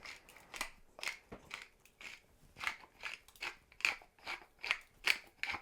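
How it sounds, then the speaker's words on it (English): Freshly cracked black pepper ground over a beef brisket, a close series of dry crunchy grinding bursts repeating in an irregular rhythm, with no talking. "I'm going to season up my beef brisket with some freshly cracked black pepper"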